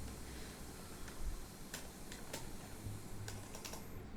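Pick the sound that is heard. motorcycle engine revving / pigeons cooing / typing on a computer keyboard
typing on a computer keyboard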